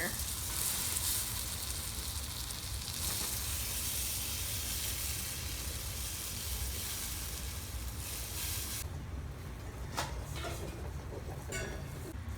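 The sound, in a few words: stirring melted marshmallows and margarine with a spoon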